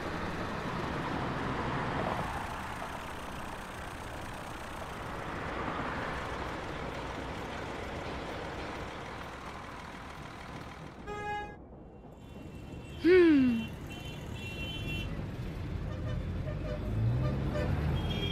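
Traffic rumbles along, then a couple of short car horn toots sound out, one brief and one louder, over the steady road noise.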